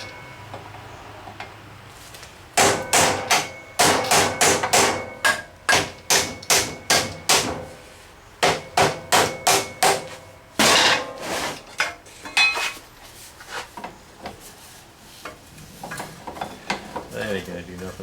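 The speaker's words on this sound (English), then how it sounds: "I figure we'll just kind of rap on it and see if it kind of moves or does anything." A hammer raps repeatedly on an engine part for a bike, landing sharp metallic blows in irregular bursts, loud and close, after a brief quiet start.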